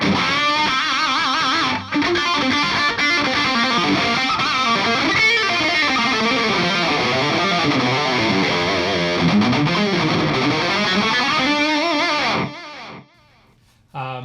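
Distorted electric guitar lead tone with delay from a Line 6 Helix, a heavy sound, playing sustained bending phrases for about twelve seconds, loud and alone, then cutting off to near silence.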